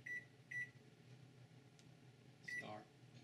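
A kitchen timer set while baking bread gives short, sharp electronic beeps, three crisp chirps and then a falling tone, close by over a quiet room hum.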